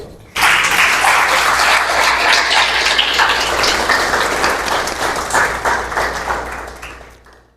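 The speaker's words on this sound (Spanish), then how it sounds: "Aplauda a Dios." A church congregation at a sermon applauds to God, erupting suddenly into loud, dense clapping that holds steady for several seconds and then slowly fades toward the end.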